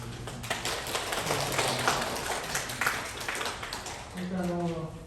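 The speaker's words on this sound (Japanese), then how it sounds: "もう一度大きな拍手をお願いします。" Audience applause closing a health seminar on periodontal disease prevention in a hall, a dense steady wash of clapping for about four seconds with a voice speaking over it near the end.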